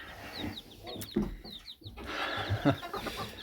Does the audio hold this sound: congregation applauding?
no